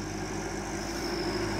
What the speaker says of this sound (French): mon père arrive avec le tracteur